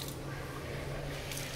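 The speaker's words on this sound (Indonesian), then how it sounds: "Ini sekali pencet langsung keluar airnya" Water gushing steadily from a push-button airport toilet fixture, a continuous broadband hiss with a low hum underneath, close and constant for the whole moment.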